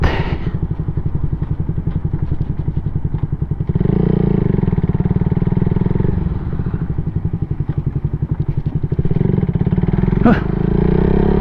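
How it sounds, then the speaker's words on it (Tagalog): A motorcycle cruises at around 83 km/h, its engine note a loud, steady drone with rhythmic pulsing and a brief rise in intensity partway through, no talk over it. "gumigiwang yung motor sa 83 km/h na takbo"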